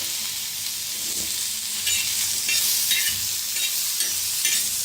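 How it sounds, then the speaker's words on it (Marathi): Onion roasting on a hot tawa gives a steady, close sizzle with faint stirring and scraping throughout, growing slightly louder partway through, with no voices. "आता त्याच्यातच कांदा बी भाजून घेऊया तव्यात"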